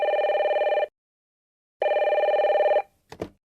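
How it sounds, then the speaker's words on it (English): A telephone bell rings in two loud, even bursts separated by a silent gap, followed by a brief clack like a handset being picked up. "John, why didn't you pick up the phone? I kept calling you."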